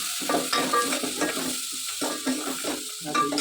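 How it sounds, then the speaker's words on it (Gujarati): Cluster beans (guvar) are tossed into hot oil for tempering and stirred, producing a loud sizzle broken by repeated scraping and stirring strokes close to the microphone. "હવે આપણે વઘારીએ ગુવાર"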